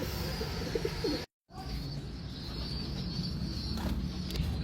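A racing pigeon coos softly at the loft during club training, low throaty calls repeating near the start, then a brief dropout followed by a steady outdoor hiss with faint chirps in the background.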